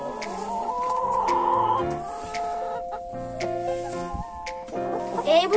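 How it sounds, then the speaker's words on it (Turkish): Several chickens cluck and murmur close by in a busy overlapping chorus, with a few sharper calls and clicks. "Dünyanın en ama en güzel tavuğudur"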